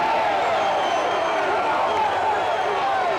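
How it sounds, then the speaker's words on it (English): A high school football crowd in a stadium reacting upset after a late hit, a broad continuous roar of many voices, loud and steady, with a vague murmur of individual calls woven through. "Crowd a little upset."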